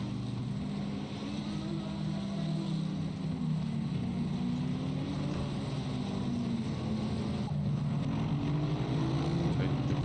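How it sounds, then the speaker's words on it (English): BMW and Lamborghini GT race car engines from Assetto Corsa Competizione at Monza, a steady loud droning roar of several cars running together, continuous for the whole stretch with faint talk beneath. "you can still hear that BMW and Lambo engine over everything else"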